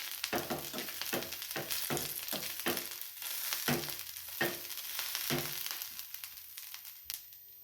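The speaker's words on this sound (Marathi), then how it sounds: "ही भाजी मिक्स करून घ्या" Vegetables sizzle in hot oil in a pan while a spoon stirs them, giving a steady frying hiss broken by a regular series of scraping knocks. Close and moderately loud, with no voices.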